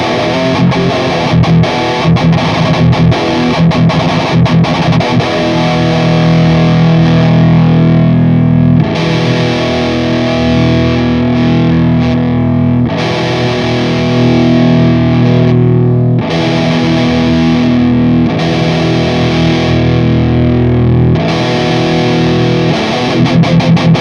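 A heavily distorted electric guitar through a VHT Pittbull amp simulator plays sustained chords and riffs, thick and loud, with brief gaps between phrases and no voices.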